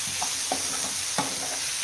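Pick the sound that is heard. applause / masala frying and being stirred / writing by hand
masala frying and being stirred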